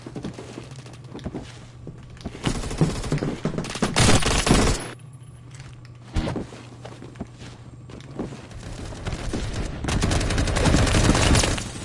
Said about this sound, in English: Even though it's a laser rifle, it'll still operate like a traditional rifle